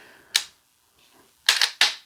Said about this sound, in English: So that's the sound of it readying that actuator so that when you do go to shoot